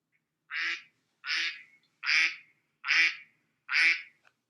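Five loud, evenly spaced duck quacks, each a short nasal call separated by clear silence.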